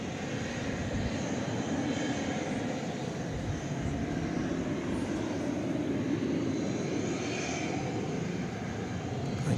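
An airliner at DFW airport's runway roars with a steady, loud jet engine rumble and broadband hiss, sustained throughout at night with no voices.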